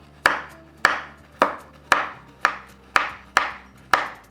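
A knife finely chops bottle gourd on a board in seven steady, evenly spaced strokes, close and crisp, with no talking.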